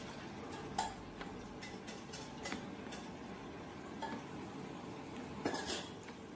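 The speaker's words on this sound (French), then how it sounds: "vous le mélangez dans la poêle avec tous vos légumes" Soft clinks and scrapes of a utensil stirring rice with vegetables in a frying pan, quiet and intermittent, with a few sharper taps against the pan.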